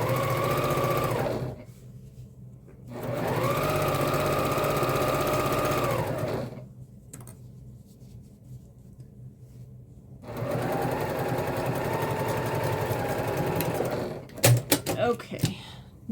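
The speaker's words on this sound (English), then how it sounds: "you want to sew that right sides together" A sewing machine stitches the pocket of a messenger bag in three separate runs, each a steady close whir lasting a few seconds, separated by quiet pauses while the fabric is adjusted.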